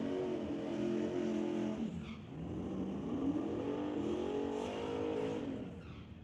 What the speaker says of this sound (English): Is the next pair already rolling into their burnouts?